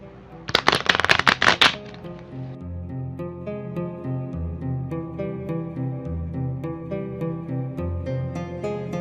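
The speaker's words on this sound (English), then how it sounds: "Let's shuffle your cards and see what you can expect." A deck of cards riffle-shuffled in a quick, loud burst, followed by soft music carrying on steadily underneath.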